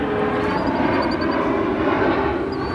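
Steady, loud roar of a Boeing 737-700 at O'Hare airport, a broad continuous engine rumble with a faint high whine throughout.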